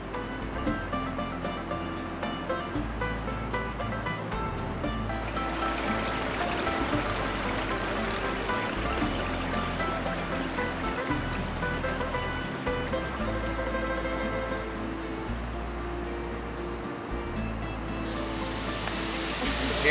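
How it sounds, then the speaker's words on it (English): Flowing water at the Polymenio waterfall in Greece makes a steady, dense rushing roar that continues without a break, fairly close and even in loudness throughout. "We are the Polymenio waterfall."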